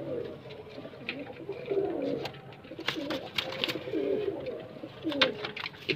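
Fancy pigeons coo softly at close range in repeated low, throaty phrases that rise and fall over a quiet background hum.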